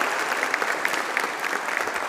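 A church congregation applauds a baptized child during a Sunday service, even, sustained clapping with a few sharper individual claps, heard alone at moderate distance.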